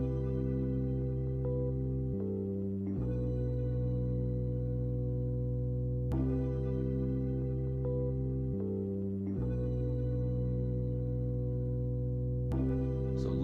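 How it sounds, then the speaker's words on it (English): Layered keyboard parts from an Arturia MiniFreak and a Yamaha Reface CP hold sustained chords that shift every few seconds, a full, steady wash of sound with no voices. "So far, all the keyboards together sound like this."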